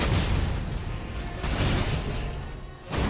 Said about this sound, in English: Explosion from the ground, Ash of War.